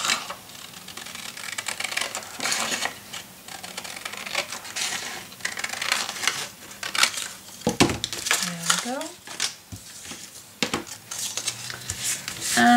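Scissors cutting paper for a handmade mini album, with short snips and rustles alongside clattering, tapping craft tools at close range; a voice talks intermittently over the crafting sounds.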